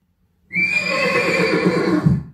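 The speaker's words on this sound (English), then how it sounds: "Hey, horses are behind me." Several horses neigh and whinny loudly and close by, a continuous stretch of overlapping calls lasting about two seconds after a brief silence.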